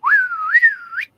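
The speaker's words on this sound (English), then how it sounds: "even a couple of whistles" A single sliding human whistle, clear and close, rises then dips and climbs again in one short wavering call, like an audience whistle dubbed into a studio recording.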